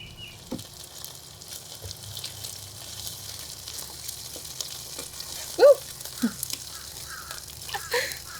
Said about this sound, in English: We're going to let this cook in our preheated pan.